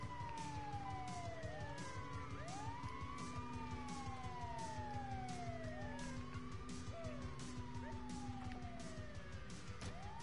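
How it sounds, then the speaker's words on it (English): Multiple ambulance sirens wail and sweep up and down at once over a steady low engine rumble, loud and continuous throughout. "You keep your sirens on."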